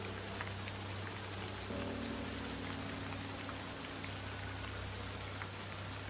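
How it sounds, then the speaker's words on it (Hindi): Steady rain falls as an ambient horror-story sound effect, a dense, even patter over a low constant hum, continuous throughout with no voices. "धीरे धीरे बारिश होने लगी।"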